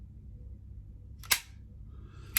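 A pistol trigger is let out during dry fire practice, giving two sharp, quiet mechanical clicks about a second apart against a low background hum.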